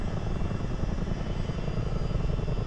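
A Miltech CH47 Chinook heavy twin-rotor helicopter in Microsoft Flight Simulator drones with a loud, constant engine roar and a rapid rotor throb, heard close and alone without talk.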